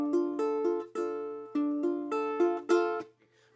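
Ukulele fingerpicked with thumb and fingers in a repeating pattern: about a dozen clear, close plucked notes in an even, slow rhythm, ringing alone before fading out.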